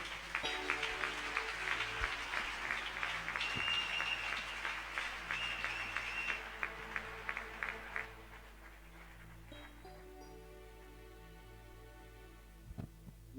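A church congregation claps during a French-language service, a steady wash of applause in a reverberant room that thins out after several seconds and leaves scattered claps over a low background hum.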